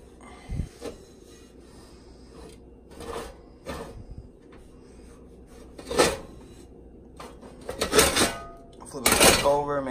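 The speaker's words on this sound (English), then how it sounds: "we're just going to rub that all over the bottom and sides" A rag rubs oil over the bottom and sides of a cast iron pan in scattered bursts of wiping and scraping, with occasional knocks as the pan is handled.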